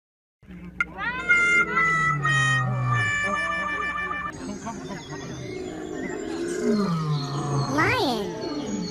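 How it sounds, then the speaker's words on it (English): A lion roars in a children's animal learning compilation, a long, loud, rumbling roar over layered music and effects, with a voice present. "Lion."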